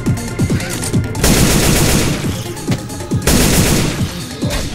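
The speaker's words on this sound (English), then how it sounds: "Shoot that zombie in the back!" Loud automatic gunfire at zombies in Left 4 Dead 2 comes in two long sustained bursts, with short gaps of clattering single shots and low grunts between them.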